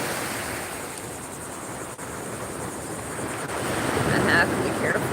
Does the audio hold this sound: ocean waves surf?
yes